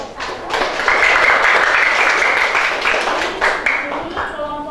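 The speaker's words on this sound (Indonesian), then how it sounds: "tepuk tangan dulu untuk kelompok 1" A classroom group claps for the first student group's presentation: a steady, fairly close wash of clapping that rises quickly and holds for several seconds before tapering slightly.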